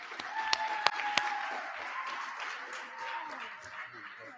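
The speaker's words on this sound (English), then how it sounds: "Could we give her a round of applause?" Audience applause at a summit on Black male youth: a few sharp claps at first, then steady, moderate clapping from a crowd in a hall, with some talk mixed in.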